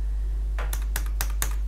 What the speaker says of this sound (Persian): کیبورد مهمه. چه مهمی داره؟ همون تایپ هم که میکنید به سرعت.